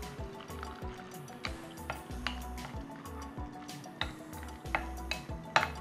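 Cream cheese, cheddar, mozzarella and Parmesan being stirred together in a bowl for spinach dip, with a steady rhythm of spoon scrapes and soft knocks against the bowl, close and moderately loud, no talking.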